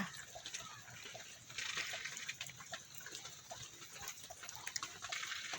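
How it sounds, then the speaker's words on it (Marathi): Steady rain falls outside a house, a faint, even wash of hiss with scattered soft patters and drips throughout, with no voices. "आज सकाळपासून घराच्या बाहेर निघता येईना एवढा पाऊस चालू आहे."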